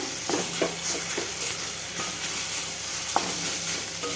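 Kharkhol leaves frying in a pan while being stirred, a soft steady sizzle with repeated scraping stirring strokes, fairly quiet and without speech.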